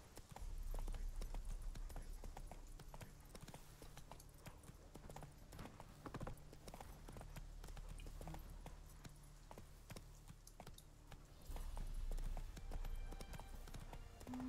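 Horse hooves clip-clop steadily in The Witcher video game, a continuous rhythmic trot heard faintly under game ambience with no talking.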